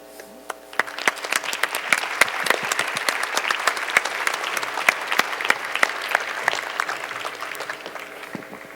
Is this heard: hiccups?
no